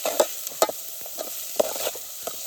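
Chopped onion with salt frying in a pan at a riverside cooking spot, a steady close sizzle broken by irregular scraping stirs and a few sharp utensil clicks.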